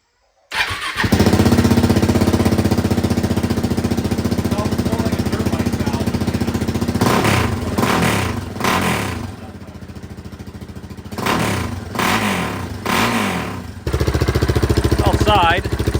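A motorcycle fitted with a cheap eBay knockoff exhaust starts up and idles loudly and close by, with a rough, steady rumble. It revs in several bursts, then settles back to idle.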